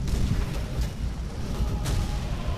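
Tank machine guns rattle in Call of Duty: World at War during a co-op armored mission, dense rapid bursts with booming low rumbles underneath, loud and continuous through the short stretch.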